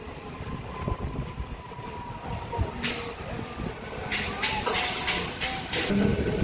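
An MMTS local train pulls out of Sitafalmandi station from platform three with a steady, close rumble of wheels and carriages, as sharp hissing bursts of air come through in the second half.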